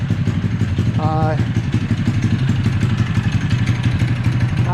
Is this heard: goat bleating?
no